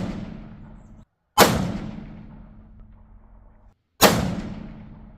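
Two sharp, loud reports from a custom .338 Lapua rifle fired at a target about two and a half seconds apart, each a hard crack trailing into a long rolling echo, with no talking between them.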